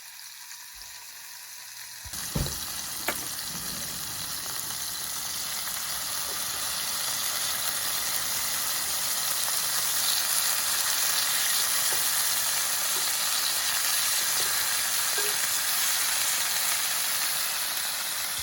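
Snow goose breast seasoned with oil, salt and pepper is laid into a hot skillet with a sharp hit and rush of sizzle, which then settles into a loud, steady frying hiss that continues alone.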